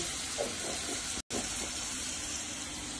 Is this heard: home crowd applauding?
no